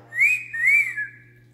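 A person's mouth-whistled imitation of men whistling at girls: two rising-and-falling wolf-whistle notes, close and clear, with a soft steady hum beneath.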